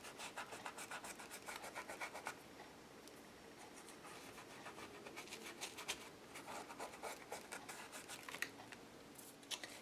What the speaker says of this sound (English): Hit my for sale sign, a little bit of sandpaper.